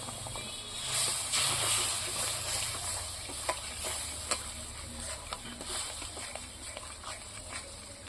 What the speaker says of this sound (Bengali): এবার আমি মিক্সার ধোয়া জলটা আমি দিয়ে দিচ্ছি